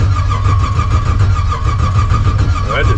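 A 1956 Chevy gasser's freshly swapped engine cranks over in loud, close, rapid rhythmic pulses, rising toward a catch near the end.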